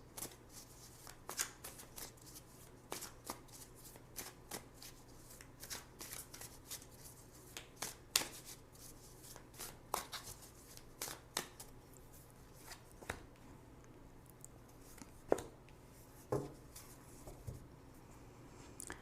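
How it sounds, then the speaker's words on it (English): Tarot cards are shuffled by hand in soft, repeated riffling and tapping bursts over nearly twenty seconds, close but faint, with no talking. "I'm going to choose 2 cards for possible outcomes."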